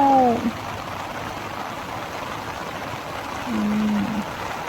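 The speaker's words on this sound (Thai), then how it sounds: "ฝนฝนฝนฝนมาแล้ว" Rain arriving at Huay Tueng Thao in northern Thailand, a steady, soft hiss of falling water spread evenly across the scene, with brief voice-like tones at the beginning and again near the end.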